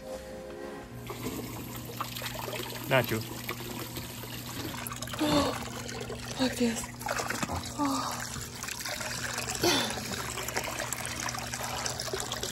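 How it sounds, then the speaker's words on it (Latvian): Water trickling and splashing in a hot tub with the bubble jets switched on, a steady low hum running beneath, while people talk casually over it throughout. "Ieslēdz burbulīši."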